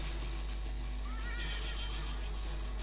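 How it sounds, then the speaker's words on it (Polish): A horse in the Western shooter Call of Juarez: Bound in Blood gives a loud whinny over clip-clopping hooves, set against a constant low game-engine hum. "Konik podnosi kopytem i ci rzuca."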